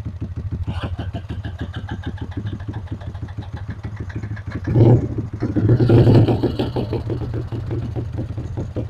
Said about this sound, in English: Both bikes are idling.